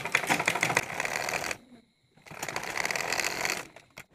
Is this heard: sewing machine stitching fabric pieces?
yes